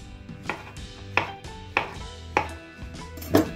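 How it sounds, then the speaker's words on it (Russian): Knife coarsely chopping champignon mushrooms on a cutting board: four or five distinct, evenly spaced chops, crisp and close, with no talk. "Шампиньоны режем тоже грубо."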